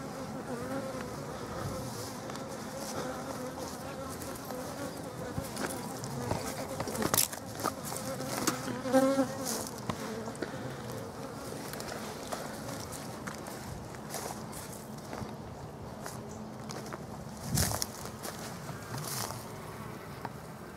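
Honeybees buzzing around an open hive being worked by a beekeeper, a continuous close, wavering drone with a few louder passes and light handling knocks, no talk.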